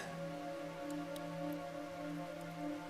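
Steady rain falls in a video game, a continuous even hiss with a few faint ticks on top and a low steady hum underneath, with no voices.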